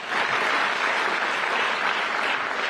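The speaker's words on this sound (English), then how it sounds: "we want to make an applause for that" Steady audience applause fills a large hall at a business anniversary celebration during an economic forum, a dense continuous clatter of many hands at a loud, even level throughout.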